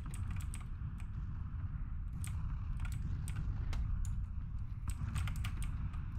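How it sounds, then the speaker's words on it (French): Rapid, irregular clicking of a computer keyboard being typed on and shifted about during a PUBG session, close and continuous over a steady low background rumble. "Je vais bouger un peu mon clavier."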